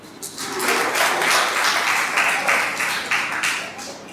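An audience at a town hall inauguration event in Viramgam claps to welcome the chief minister, a dense, sustained burst of many hands lasting several seconds, moderately loud and swelling in waves.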